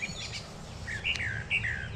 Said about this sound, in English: Just come out here and sit and listen to the birds.